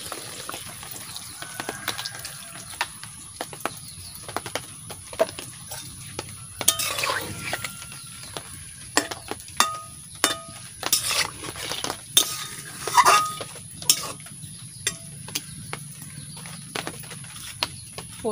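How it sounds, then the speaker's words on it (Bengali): Coconut milk going into a pointed gourd malai curry in a pot, with intermittent clinks and scrapes of a spoon stirring against metal over a soft background sizzle, no talking. "এটা নারকেলের দুধটা আমি দিয়ে দিচ্ছি।"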